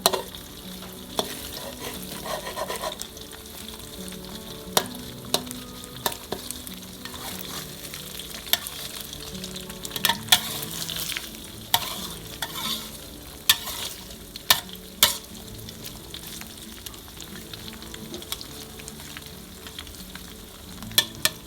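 Eggs frying in hot oil, a constant crackling sizzle close by with sharp spatula scrapes and taps scattered through, no voices.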